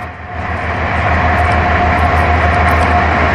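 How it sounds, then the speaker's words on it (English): A slow freight train rolls past on the tracks nearby with a loud, continuous rumble and steady clatter of wagons, grinding on without a break and without talk. "Here's the train."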